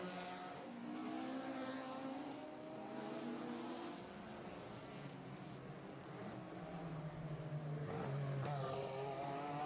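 A Porsche and a Ford Escort race in a GT race at the Circuit des Remparts, their engines roaring loud and continuous, shifting pitch as they accelerate and pass.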